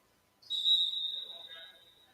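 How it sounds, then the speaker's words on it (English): A single sharp, high referee whistle blast at a basketball game sounds clearly and holds for about a second, then fades amid faint background noise. "And we have a whistle."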